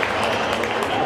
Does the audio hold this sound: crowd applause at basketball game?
yes